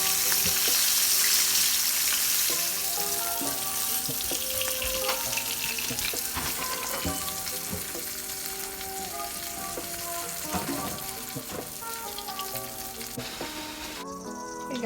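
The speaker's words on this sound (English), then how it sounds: "Just rolling the fish inside of the cornstarch or flour, whatever you like, whatever you prefer, guys. And then fry it." Mackerel (galunggong) rolled in cornstarch sizzles in hot frying oil, a steady crackling hiss with tonal kitchen sounds layered over it, fairly quiet and with no talk.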